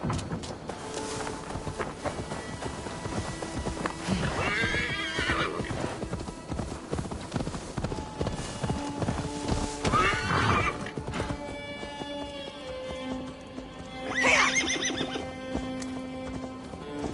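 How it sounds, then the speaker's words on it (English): Hooves clip-clop steadily on the ground from a horse in the video game Assassin's Creed Valhalla, punctuated by three loud neighs spread through the passage, with faint background ambience and no speech. "Now to deliver Magni his horse."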